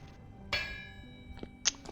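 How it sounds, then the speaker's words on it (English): Metallic hammering in the video game Vintage Story, from a workshop with spinning machinery: a couple of sharp ringing clinks with lingering metallic tones, fairly quiet and with no talk. "I don't want to have this sound always just hammering away"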